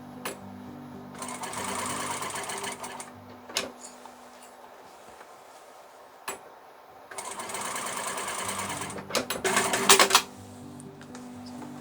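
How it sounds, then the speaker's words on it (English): A domestic sewing machine stitching an X across the strap of a tote bag, two long whirring runs of rapid stitching separated by a pause with clicks and handling, close and clear, with no talking. "Going across. Just sew an X."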